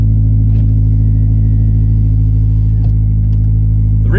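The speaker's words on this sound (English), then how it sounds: "The Remark exhaust, absolute game changer. Best bang for your buck exhaust you can get for this car" A Subaru BRZ/GR86 with a Remark aftermarket exhaust drones loud and close from inside the car, a deep steady rumble that swells briefly as the engine is revved, with no talking.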